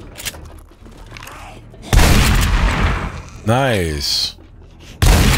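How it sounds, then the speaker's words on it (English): Heavy, booming shotgun blasts in 7 Days to Die, two loud shots several seconds apart, with a rising game sound between them and a person talking briefly. "Call me the shotgun"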